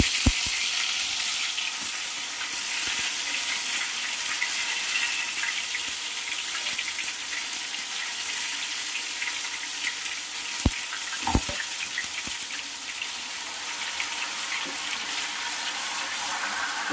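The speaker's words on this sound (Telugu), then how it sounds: "అల్లం వెల్లుల్లి పేస్ట్, ఉల్లిపాయ పేస్ట్ గుమ్మగుమ్మలు ఆడుతుంది." Ginger garlic paste and onion paste frying in a pan for chicken fry, giving a continuous hiss with occasional sharp clicks of a spoon stirring, and no talking.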